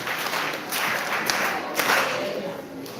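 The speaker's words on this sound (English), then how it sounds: "Clap for her, please." Students in a school classroom clap for a classmate, a short, steady burst of applause from a group with a few sharper, louder claps standing out.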